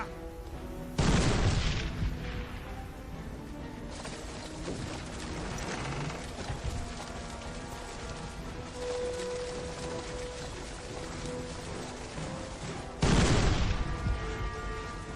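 Cannon artillery in the fantasy battle game Warhammer: Mark of Chaos: two loud booming blasts about twelve seconds apart, with mechanical clanking and rattling of the guns being readied in between.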